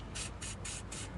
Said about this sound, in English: Just gonna spray this the knuckle where the strut goes into